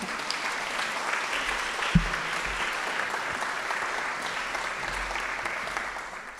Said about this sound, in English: That's worth another round of applause